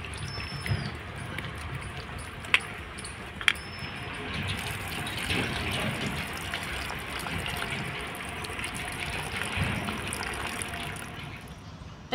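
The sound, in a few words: washing cut cauliflower with water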